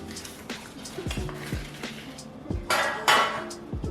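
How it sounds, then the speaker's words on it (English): Frozen butter scraped on a metal box grater while making cinnamon walnut biscuits, giving a run of short, close rasping strokes and clinks, with two louder scrapes near the end. "Using the box grater, slice the butter."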